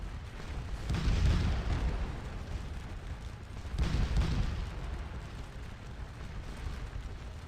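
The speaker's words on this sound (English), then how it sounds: "These boys are just standing out here taking cannon fire." Heavy cannon fire rumbles through a battle video game, with two big booming surges of deep, rolling blasts a few seconds apart over a constant low din of distant battlefield noise.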